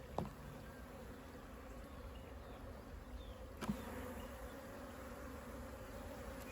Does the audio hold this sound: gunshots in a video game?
no